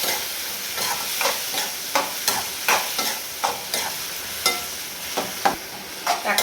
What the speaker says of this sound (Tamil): இந்த தக்காளியோட பச்சை வாசனை போகிற வரைக்கும் நல்லா வதக்கிக்கணும்